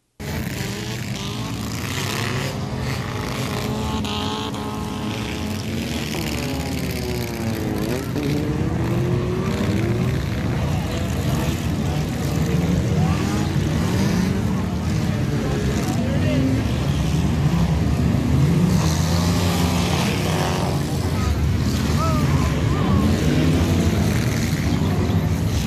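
Race cars circle a quarter-mile speedway, their engines droning loudly and continuously as the pitch rises and falls with passing cars, with a commentator talking over the racing noise.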